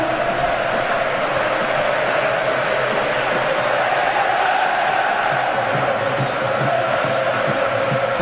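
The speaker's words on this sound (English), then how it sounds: "Steve McLaren appealed for big backing from the Wembley crowd. He's getting it in the early stages." A big football crowd at Wembley Stadium roars and chants in support during an England versus Croatia match, a loud, steady wall of cheering with a commentator's voice faintly underneath.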